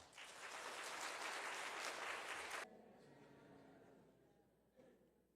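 A church congregation applauds to welcome Pastor Park Un-cheol at a men's dedication service. Full clapping runs for about two and a half seconds, then stops abruptly and leaves quiet room noise with a faint thump.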